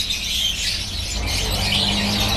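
Green opaline lovebirds in an aviary give bright, overlapping chirps and calls, close and fairly loud, over a steady hum of background noise.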